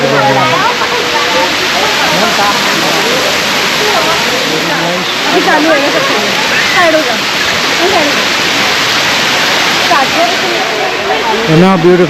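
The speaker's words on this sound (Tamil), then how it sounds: "அந்த garden ஃபவுண்டன் எவ்வளோ பியூட்டிஃபுல்லாக ஃபால்ஸ் மாதிரி வந்துருக்குது" Artificial waterfall fountain in the Rock Garden, Chandigarh, a steady broadband rush of falling water that fills the whole clip, with voices talking faintly over it.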